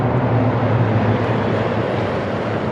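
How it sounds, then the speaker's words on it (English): A Rooivalk combat support helicopter passes overhead at a presidential inauguration flypast, a broad, loud roar that swells and holds steadily, rumbling across the sky without speech. "That first roar in the skies that you hear is the beautiful sound of the Roy Falk Combat Support Helicopter in the lead."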